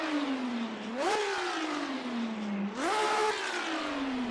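A classic GT racing car engine in the Assetto Corsa racing game hums along then revs sharply twice, pitch climbing on each surge before settling back, loud and close with no talking.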